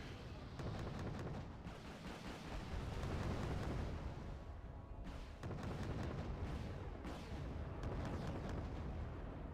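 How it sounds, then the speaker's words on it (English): In the Wargame Red Dragon video game, an Mi-17 helicopter fires rockets, producing a dense roar of rumbling blasts and bursts with a couple of brief gaps, distant and faint overall. "The Mi-17 coming in, and it's the one with the big bloody missiles or rockets."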